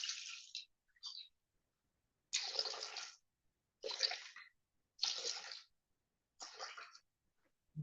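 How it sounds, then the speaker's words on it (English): Water poured into the bowl of a Thermomix TM7 kitchen machine arrives in six separate splashing bursts with silent gaps between them, close and fairly quiet. "So we're adding in 270 grams of water."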